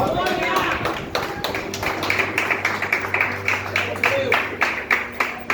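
A church congregation claps in a quick, steady rhythm during a Portuguese-language worship service, the sharp hand claps running throughout while voices carry over them.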